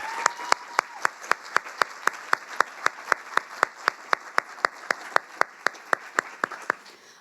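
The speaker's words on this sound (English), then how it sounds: "let's give them a round of applause" One person claps at a steady, brisk pace, about thirty crisp claps in a row, close and clear, offered to event organizers as a summit closing panel wraps up. The claps carry alone over a quiet room.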